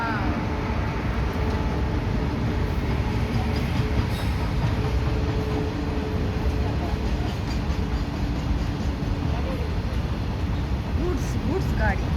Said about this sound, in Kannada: ಗೂಡ್ಸ್ ಗಾಡಿ ಗೂಡ್ಸ್